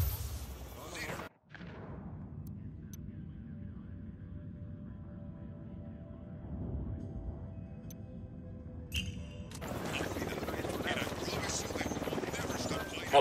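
A helicopter's rotor thrum in Tom Clancy's Ghost Recon Wildlands builds steadily, swelling to a loud, dense roar near the end amid other low rumbling effects.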